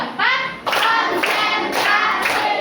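A class of schoolchildren claps in a counting game, bursts of sharp hand claps in quick groups, loud and close, interleaved with children's voices.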